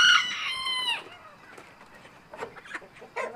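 Chickens and hens clucking and squawking in a barn, a loud bright burst up close at first, then scattered softer clucks and rustling.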